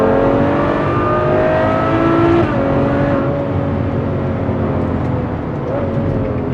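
A V12 grand touring car engine pulls hard under acceleration, a loud steady multi-harmonic drone rising in pitch, heard from inside the car with a slight dip as revs change.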